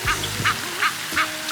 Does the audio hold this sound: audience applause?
no